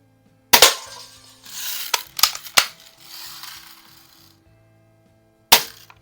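Sharp snapping shots from a 1946 Daisy Model 155 lever action BB gun, two close cracks with short scattered rattles between, then a lone final crack after a pause.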